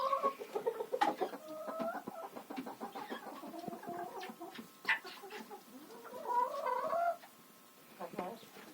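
Bantam hens cluck in a coop, close by and irregular, with soft overlapping murmurs and sharper calls rising and falling throughout.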